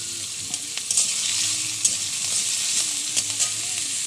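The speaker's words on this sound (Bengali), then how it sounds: "কেটে রাখা ডুমো ডুমো আলু ভেজে নিচ্ছি। এর সাথে গাজরগুলো ভেজে নিচ্ছি।" Diced potatoes and carrots fry in hot oil in a pan, with a steady close sizzle and occasional stirring clicks from a utensil.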